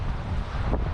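Strong wind buffets the microphone at a wild seaside campsite at Teluk Frigi, a steady low roar with no break and no voices.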